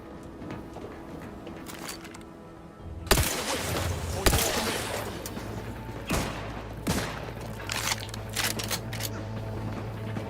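Turrets fire in The Outer Worlds, a space-station shooter, in a dense run of sharp gunshot bursts and repeated impacts that begins abruptly after a quiet stretch, loud and close over a constant low hum.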